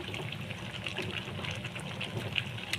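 Water poured into a cooking pot of menudo, a steady close gushing and trickling splash lasting a few seconds with no talk.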